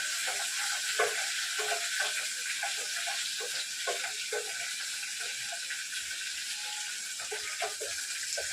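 A tempering sizzles in hot oil with a continuous close hiss, dotted with faint rhythmic clicks and ticks of stirring, and no one speaking.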